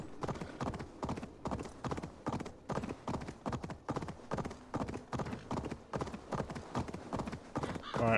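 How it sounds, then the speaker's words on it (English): A horse gallops in Assassin's Creed Valhalla, its hooves beating a fast, even, repeating clip-clop rhythm close and loud throughout, with a brief whinny at the very end. "I'm gonna ride my horse for a little bit"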